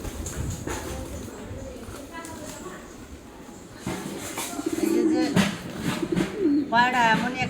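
Pigeons at a home coo softly in short bursts, with a person talking over and between the calls and some clattering nearby.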